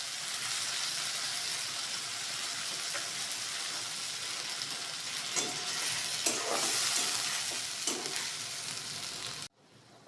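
Garlic, onion, green chilli and ginger pastes sizzle and spit in hot oil for a potato and egg kofta curry, a loud, continuous frying hiss with occasional stirring bursts that stops abruptly near the end.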